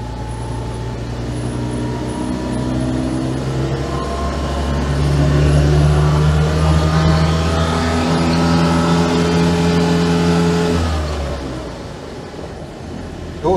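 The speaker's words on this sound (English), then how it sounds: "There's a little straight twin air-cooled engine. It's not the most refined." The small straight-twin air-cooled engine of an Autobianchi Bianchina van runs steadily with a rough, throbbing drone, rising slightly in pitch midway before settling and fading out near the end.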